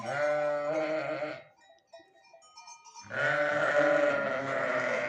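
Several sheep, ewes close to lambing, bleat loudly and close by in long wavering calls in freezing cold, a pause with faint distant bleats, then another strong chorus of bleating.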